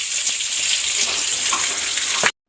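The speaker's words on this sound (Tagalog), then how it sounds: "lulunod na natin yung sibuyas guys" Onion, garlic and ginger sautéing in hot oil in a pan for a Filipino mixed-vegetable coconut stew, a loud steady sizzle that runs without a break for about two seconds and then cuts off abruptly.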